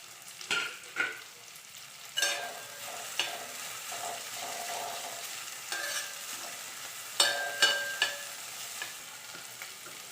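Okra sizzles and crackles steadily in hot oil, with a few sharp clinks and stirring scrapes standing out above the continuous frying hiss.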